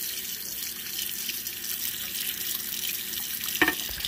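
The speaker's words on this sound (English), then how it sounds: "So I'm going to rinse it and see what happens." Steady running tap water splashes continuously into a sink while dishes are rinsed, with a brief clatter of a utensil being rinsed near the end.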